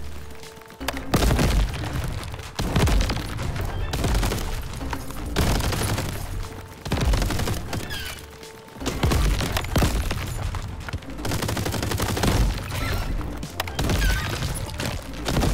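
Video game gunfire in Crab Champions, a dense, loud, continuous barrage of booming shots and crashing impacts that keeps going in waves with only brief dips, no voices over it.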